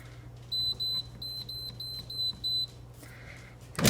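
An air fryer beeps as its settings are entered: about six short, high electronic beeps in a steady rhythm, heard close and clear with no talking.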